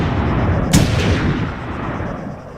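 A sniper rifle fires once in the video game Arma 3, a loud close boom with a sharp crack that rolls into a long fading echo.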